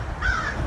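One harsh crow caw, brief and moderately close outdoors, over faint background noise.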